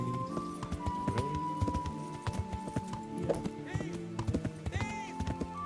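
Horse hooves thud in uneven, close clusters in the Kingdom Come: Deliverance video game, while a voice speaks and sings over them and a short neigh rises near the end.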